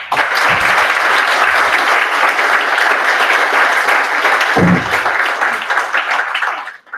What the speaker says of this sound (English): So you all really deserve a round of applause